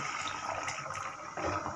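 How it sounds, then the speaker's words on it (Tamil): A tumbler of water is poured into a pan of chicken gravy on the stove, giving a brief, close, steady splashing pour with a slight surge near the end. "இப்போ ஒரே ஒரு டம்ளருக்கு தண்ணி ஊற்றலாங்க."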